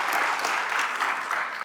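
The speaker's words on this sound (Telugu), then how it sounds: "క్లాప్స్ కొట్టండి" Studio audience applause on a Telugu TV game show, a thick, continuous burst of clapping that stays loud and even from start to finish.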